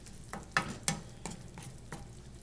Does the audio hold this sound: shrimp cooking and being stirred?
yes